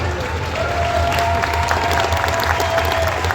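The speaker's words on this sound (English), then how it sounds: "Give him a big round of applause" Applause from a crowd at an outdoor car show in Morris, Manitoba, steady and dense throughout with a faint tone running through the middle.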